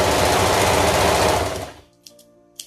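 A serger sewing machine runs loud and steady, stitching off the sleeve end of a toddler maxi dress, then stops abruptly and leaves quiet with a couple of small clicks.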